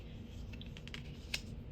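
Soft papery clicks and light snaps of tarot cards being shuffled close by, quick irregular taps with one sharper flick near the end, quiet and alone with no talking.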